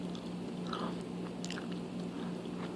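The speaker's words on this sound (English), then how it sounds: "a basic ASMR video with your chewing gum sounds" Gum being chewed close to the mic for ASMR, a steady stream of soft wet clicks and crunchy bites over a low constant hum, with no talking.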